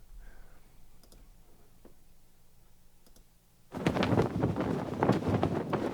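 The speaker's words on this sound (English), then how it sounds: "another sound that I have in my mind is a sound of a flag flapping in the wind" A flag flapping in the wind as a sound effect: after a few quiet seconds with faint clicks, a loud, dense fluttering bursts in and continues steadily.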